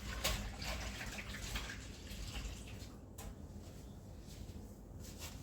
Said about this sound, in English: Let's just wash my hands.